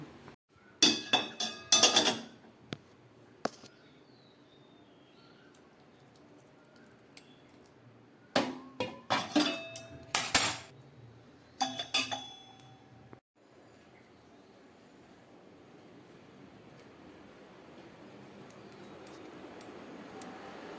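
Cups and dishes clinking while tea is made in a home kitchen, two clusters of sharp clinks and knocks separated by a quiet stretch, close and fairly soft.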